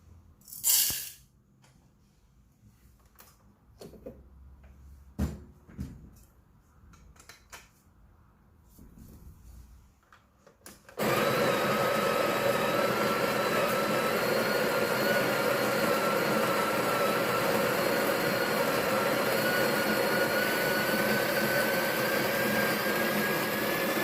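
Some quiet handling clatter comes first, then a coffee grinder starts and grinds 18 grams of espresso beans with a loud, steady, close whirring drone that lasts until the end.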